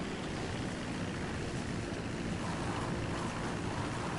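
Video game seaplane skims and skids across water, giving a constant loud rushing roar of spray and wind with no breaks.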